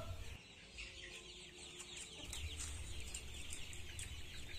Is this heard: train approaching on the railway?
no